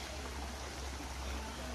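Water rushing over a waterfall stream at Solymar, Hungary, heard as a steady, full broadband roar that stays constant and fairly close throughout, with no talk over it.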